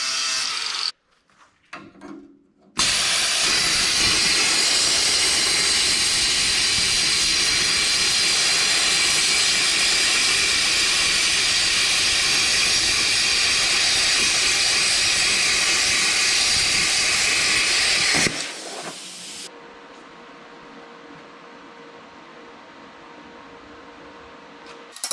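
A Bestarc BTC800XP plasma cutter slices through 1/8 inch steel plate, a loud steady roaring hiss lasting about fifteen seconds before cutting off to a quieter hum.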